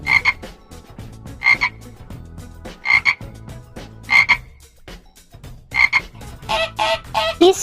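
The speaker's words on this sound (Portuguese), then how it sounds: "Sapo." A frog croaks in short, regularly spaced pulses about every second and a half, close and clear against a low background, ending in a quicker flurry of calls.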